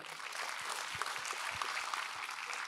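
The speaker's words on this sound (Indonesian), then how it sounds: "beri tepuk tangan buat Tuhan Yesus" Steady applause from a church congregation, a dense wash of many hands clapping at an even, moderate level from start to finish.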